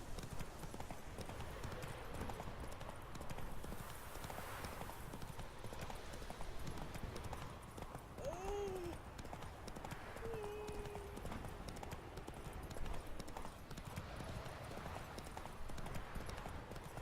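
Hooves of a galloping horse in The Witcher 3 video game drum steadily and continuously. A brief whinny rises over them midway, with faint game ambience in the background.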